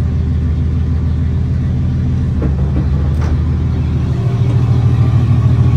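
A Nissan 240 pulls away in first gear, its engine a loud, steady low rumble close by that swells slightly toward the end, with no talking.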